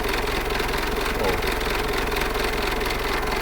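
A car engine with worn piston rings runs loud, leaking oil and short on power. It gives a constant rough drone with some knocking, close up, while someone talks over it.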